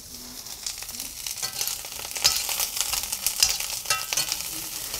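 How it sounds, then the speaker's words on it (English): Onion fries in hot oil in a pan, giving a steady, close, crackling sizzle with stirring noises mixed in and no talking. "Be careful I don't want you to get splattered with the oil here."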